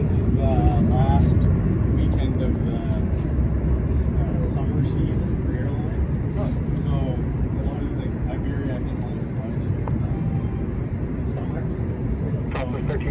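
Airplanes at LAX airport, heard from a hotel rooftop, give a continuous loud low engine roar, with speech heard throughout.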